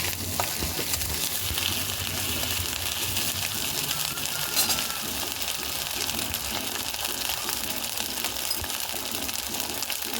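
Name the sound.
stirring and frying ginger paste in a pan for fish curry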